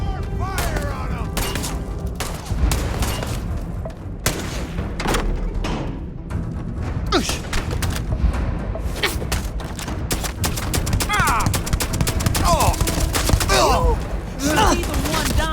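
Dense, sustained gunfire from the Starfield video game, with rapid overlapping shots and booming bursts filling the whole stretch at close, loud range.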